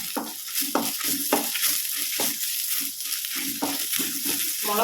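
Dried red chillies, both ordinary and Kashmiri, fry in hot oil with onions, giving a steady loud sizzle broken by repeated scrapes and knocks of a stirring spoon against the pan.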